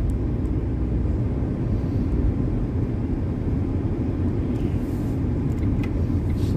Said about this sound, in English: School buses going to school.